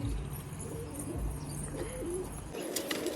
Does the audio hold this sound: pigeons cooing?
yes